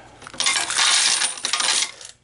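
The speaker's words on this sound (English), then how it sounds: "put enough coins in there to where it will come on." Coins drop into the hopper of an American Changer AC500 coin changer, a dense, bright metallic clatter and jingle that lasts about a second and a half before stopping abruptly, close and loud.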